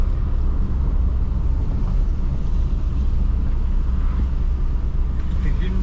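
A 2007 Hyundai Santro Xing with a 63 hp engine downshifts on Thrissur roads; the engine holds a steady, loud, low drone heard from inside the cabin, with people talking over it.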